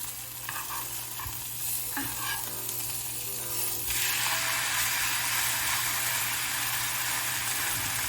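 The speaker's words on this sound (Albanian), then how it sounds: "Dhe fillojmë të skuqim." Marinated chicken frying in a pan gives a steady, close sizzle with stirring that swells noticeably louder about halfway through and then holds.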